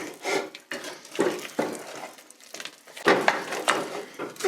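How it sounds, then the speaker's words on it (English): A spoon stirs egg yolks into a cheese soufflé sauce in a pan, with repeated scraping and clinking strokes that come close and fairly quiet in an uneven rhythm. "we're going to add the 4 egg yellows into the sauce. And we're going to stir those in."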